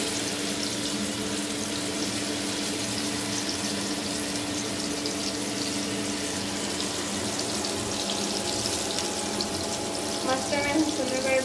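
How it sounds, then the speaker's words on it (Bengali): Rohu fish frying in hot oil for a traditional Bangladeshi fish mash, a steady broadband crackle and hiss running the whole time at close range, with water-like sputtering and no speech. "এই যে আমাদের মাছ ভাজা চলতেছে"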